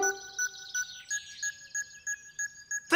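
An electronic milking-time alarm beeps in a regular series of about eight short, bright chirps over a warbling tone, ending in a louder burst.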